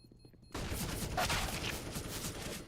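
Sustained automatic AK rifle fire in a competitive first-person shooter match, starting abruptly after a brief quiet moment and continuing as a dense, loud rattling burst of rapid shots.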